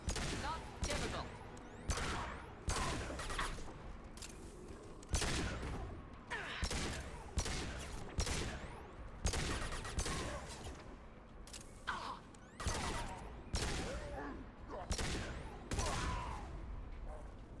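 Pistol gunfire from the video game Mass Effect 2, a steady run of sharp, loud single shots spaced about half a second to a second apart across the whole stretch, with brief pauses and a faint voice now and then.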